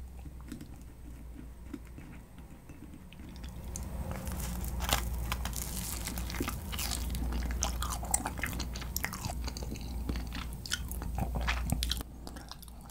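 Close, crunchy chewing and biting of Japanese kirimochi rice cake coated in Korean tteokkochi sauce, steady mouth sounds with crackly bites throughout and no talking.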